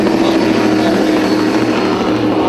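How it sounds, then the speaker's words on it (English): Helicopter flying over a powerboat race on Pickwick Lake, a steady, loud rotor and engine drone holding constant throughout without speech. "Here we got one of our helicopters."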